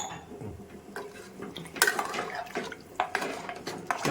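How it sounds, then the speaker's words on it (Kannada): Rice and water being stirred in a pot, with soft sloshing and intermittent clinks and scrapes of a utensil against the metal, close and moderately loud, no voices. "ಚೆನ್ನಾಗಿ ಅಲ್ಲಾಡಿಸ್ತಾ ಇದ್ದೀನಿ ಫ್ರೆಂಡ್ಸ್"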